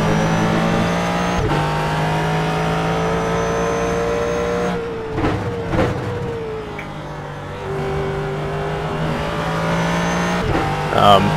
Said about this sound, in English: this Ford GT I'm driving